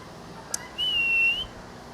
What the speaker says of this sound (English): Oh, that noisy bird.